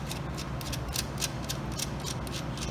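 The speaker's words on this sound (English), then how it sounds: "And go ahead and bolt this on." Ratchet wrench tightening a bolt on the gauge cluster of a 1957–1960 Ford truck, a quick run of close, crisp clicks in an uneven rhythm over low background hum.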